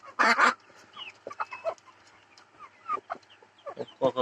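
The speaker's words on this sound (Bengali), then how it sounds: "দেখেন কক করতেছে" Native hens kept in a small shed give close, loud clucks and short throaty calls in irregular bursts, with quieter clucking between them.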